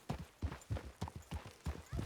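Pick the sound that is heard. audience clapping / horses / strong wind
horses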